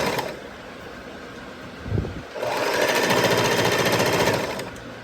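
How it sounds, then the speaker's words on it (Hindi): A household sewing machine stitches clothing at home, a fast, even mechanical whir that starts after a short pause and runs steadily and close. "तो यहाँ पे वही मैं स्टिच कर रही थी।"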